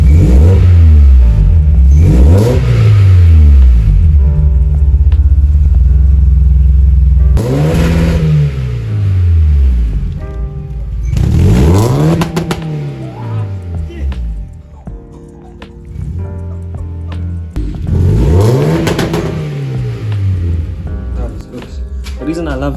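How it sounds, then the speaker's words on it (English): A tuned Volkswagen Polo engine idles low at around 600 RPM, then is blipped into several loud rising and falling revs at steady intervals, close up, with talk over it. "it's idling really low, like 600 RPM"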